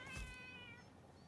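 A creature in the video game Satisfactory lets out a single drawn-out, wavering meow, close and fairly faint, with no talk over it.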